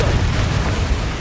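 A Confringo explosive spell blast in Hogwarts Legacy erupts as a dense, loud, roaring burst of broadband noise that fills the whole moment without letting up.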